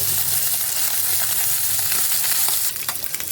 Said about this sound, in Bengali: আর একদিক উল্টে দিই, উল্টে ভালো করে ভেজে নেব